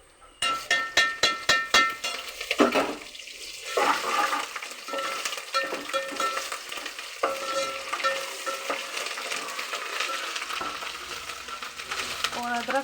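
Ginger and garlic hit a pan of lightly browned onions with a burst of rapid clattering stirs, then settle into a steady, close sizzle with scraping strokes throughout, no voices.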